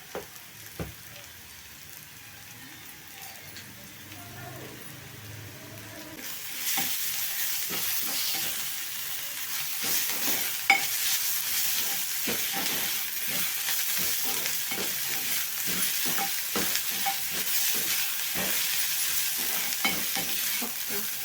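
Ginger garlic paste frying and being stirred in a hot pan, with a quiet start, then a steady loud sizzle from about six seconds on, broken by repeated scraping clicks of a spoon, no voices.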